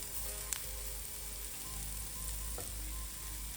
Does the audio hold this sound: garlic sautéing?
yes